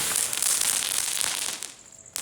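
Firecrackers go off outdoors in a courtyard garden, a dense crackling burst of rapid pops and hiss that thins out and then stops, with a short sharp snap at the very end.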